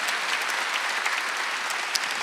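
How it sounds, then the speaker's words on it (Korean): A church congregation at a Wednesday worship service claps steadily and densely for a couple of seconds, a full room of even applause with no speech over it. "박수하세요"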